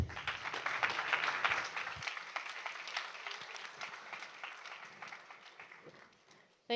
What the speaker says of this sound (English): So give a very loud and warm applause for Natalia.